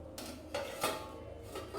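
A lid is set on a pot of potol sweets in kheer on a switched-off gas stove: a few light metallic clinks and knocks, close and quiet, over a soft background hum.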